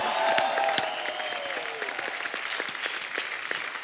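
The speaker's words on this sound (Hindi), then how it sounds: "जोरदार तालियां" A television comedy show's studio audience breaks into brisk applause. The clapping is dense and steady throughout, at moderate loudness, with a few faint voices over it.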